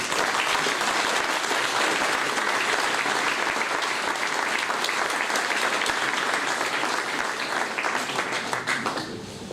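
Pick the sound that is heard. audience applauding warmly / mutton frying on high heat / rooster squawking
audience applauding warmly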